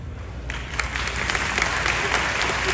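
A convention audience at a William Shatner panel at Spacecon in San Antonio, Texas, breaks into applause after a quiet moment, building into a steady wash of many hands clapping from the hall.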